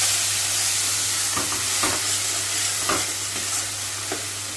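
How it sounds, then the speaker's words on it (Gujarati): A spoon stirs turmeric and green chili paste into a potato filling for batata vada in a pan on the stove, giving several soft scraping strokes over a gentle sizzle and a low steady hum. "પછી લીલા મરચાંની જે આપણે પેસ્ટ રાખી છે એ નાખીશું અને બધું સારી રીતે મિક્સ કરી લઈશું"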